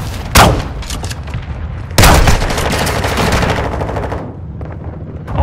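Loud rapid automatic gunfire from a military shooter video game rattles in sustained bursts, with a sharp opening shot, a long dense volley and trailing shots, no voices over it.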